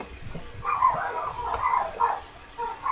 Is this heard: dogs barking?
yes